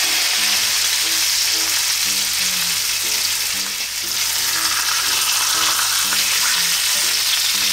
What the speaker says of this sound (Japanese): もうちょっと皮面焼きます